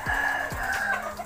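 A gamefowl rooster crows in one drawn-out call, fairly close and moderately loud, with short clucks and the calls of other birds around it and no voices.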